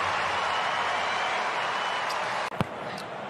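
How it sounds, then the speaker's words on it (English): Crowd noise at an Australian football match, a broad, steady roar from a large stadium audience throughout, broken near the end by a couple of sharp thuds. "Doggies fans will cheer that."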